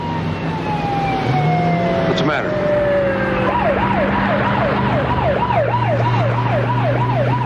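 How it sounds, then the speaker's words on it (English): A wailing emergency siren sweeps up and down repeatedly over steady traffic noise, with a brief spoken question partway through. "Sirens make me jumpy."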